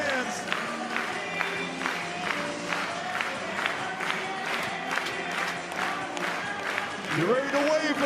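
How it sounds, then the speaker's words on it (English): Crowd at a Firefighters versus Indianapolis Clowns baseball game in Greenville, South Carolina, clapping in a steady rhythm with cheering mixed in, while an announcer's voice comes up near the end. "You better be clapping those hands."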